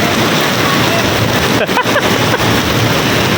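Heavy rain pours down in a flooded street during a thunderstorm, a dense, loud, unbroken roar up close with a couple of brief dips.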